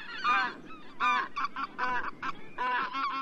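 White-fronted geese honking close by, several bursts of loud nasal, laughing calls in quick overlapping series with short gaps, no other voices.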